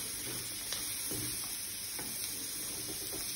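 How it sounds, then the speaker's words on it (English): Tomatoes and garlic fry with capsicum in a pan over a low flame, a soft continuous sizzle with occasional stirring scrapes, close and steady. "add tomatoes, ensure you're under low flame, add garlic"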